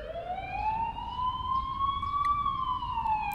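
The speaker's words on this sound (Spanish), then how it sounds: "¿Por qué hay una ambulancia aquí?" An ambulance siren wails in the video game The Coma Recut, a single rising and slowly falling tone held clear and loud over a low rumbling background.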